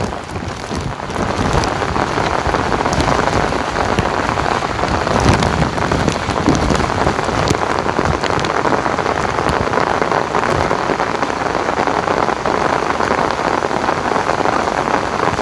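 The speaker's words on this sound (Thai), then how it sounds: "ฝนตกตลอด" Heavy rain pours down continuously, a dense hiss of drops drumming on surfaces, loud and unbroken for the whole stretch.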